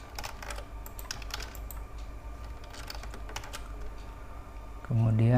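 Nearby typing on a computer keyboard, a quick run of light key clicks in irregular bursts, ending with a short louder tone.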